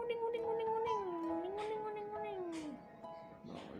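A cat lets out a long, drawn-out meow that rises and falls before trailing off, close by, followed by a brief rustle.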